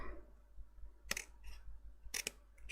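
Scissors snip through patterned cardstock along dashed lines for a nautical mini album, two quick close cutting bursts a second apart with a fainter rustle between them, quiet and alone.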